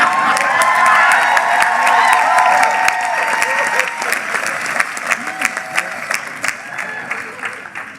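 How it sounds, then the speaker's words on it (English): Loud, dense applause from a commencement audience, with cheers and whoops rising over it. The clapping is steady at first, then thins into scattered individual claps toward the end. "And no need to hold your applause,"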